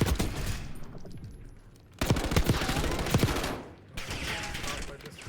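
Rapid bursts of automatic gunfire and overlapping shots in a Call of Duty Warzone multiplayer firefight, loud and dense, with a short lull before the shooting resumes from several directions.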